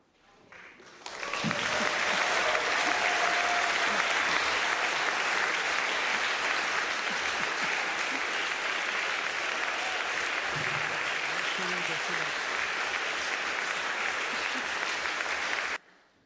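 Sustained, loud audience applause following a speech by the German chancellor in Munich, starting abruptly and continuing evenly for about fifteen seconds before cutting off.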